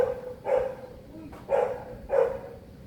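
Two large huskies barking outdoors at a moderate distance, three separate bark bursts spaced about a second apart, with faint background murmur between them.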